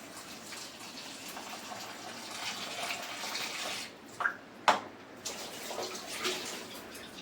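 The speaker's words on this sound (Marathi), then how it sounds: "त्याच्यातलं आता पाणी काढून टाकतो हे रात्रीचं पाणी परत पाणी घालणार" Overnight soaking water splashes and gushes steadily as it is poured out of a pot of bamboo shoots, with a few sharper splashes, no voices present.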